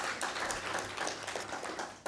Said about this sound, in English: let's give Minister James another round of applause for this inspiring speech